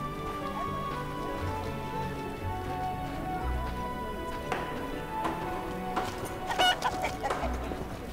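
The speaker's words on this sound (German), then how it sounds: "Und das sind Hühner." Chickens clucking in the video game The Witcher, a scatter of soft clucks and low calls over a quiet ambient game backdrop, with a few sharper bursts near the end.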